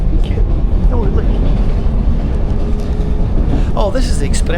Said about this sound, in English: Oh, this is the express train.